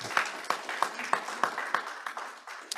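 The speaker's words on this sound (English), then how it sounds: "Somebody started to clap." A small audience at a business meeting claps sparsely and briefly, about eight to ten distinct, evenly spaced hand claps ringing in a reverberant room.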